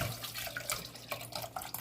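Liquid poured into a container while making tamarind juice with sugar, a soft running, splashing trickle lasting a couple of seconds, close and fairly quiet, with no talking.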